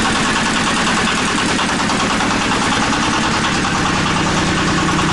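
A heavy diesel TATA walk-behind tractor engine runs loud and close with a rough, rapid, steady chugging rhythm throughout, with no pauses.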